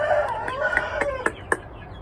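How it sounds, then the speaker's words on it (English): A white rooster clucking in short bursts, several sharp clucks spaced roughly every quarter second over a steady low murmur of poultry nearby. "White Rooster."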